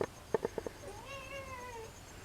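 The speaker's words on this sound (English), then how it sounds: "Meow, says Emily Cat" A cat in a garage gives a long, drawn-out meow close by, preceded by a few soft taps or thumps, in otherwise quiet surroundings with no speech.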